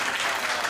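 Clapping from a live comedy show audience, a dense steady wash of many hands filling the moment without any voices over it.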